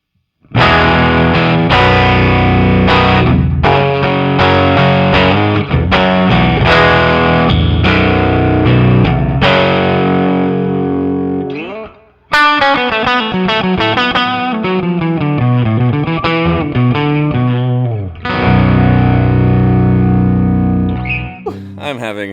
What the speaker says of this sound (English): we're going to hear the Fender and the Marshall playing together in just wonderful gloriousness